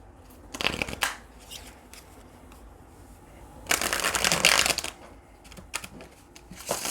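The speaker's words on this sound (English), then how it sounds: "Okay, one more good shuffle." A deck of tarot cards is riffled and shuffled in two brisk bursts, close and crisp, with quieter handling of the cards in between.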